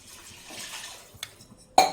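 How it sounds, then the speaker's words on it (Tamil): Water poured from a tumbler onto soaked basmati rice for paneer biryani, four tumblers to two of rice: a soft steady wash of pouring, a small clink, then a louder splash near the end, with no talking. "இப்போ ரெண்டு டம்ளர் அரிசிக்கு நாலு டம்ளர் தண்ணி ஊற்றிக்கலாம்"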